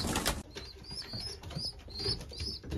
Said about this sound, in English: This male bird feeding his youngsters.